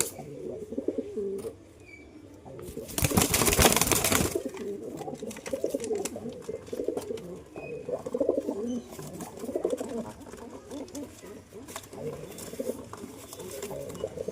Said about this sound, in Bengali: এ হচ্ছে কবুতরটা এটার সাথে জোড়া দেবো